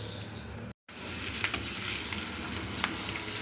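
Several ingredients for a chicken masala fry together in a little oil in a pan, giving a steady, close sizzling hiss with a momentary cut and a few faint clicks from stirring.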